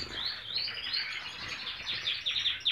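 Canaries sing alongside Gouldian finches in an aviary, a steady stream of bright, high chirps and trills running continuously throughout at close range, with no voices.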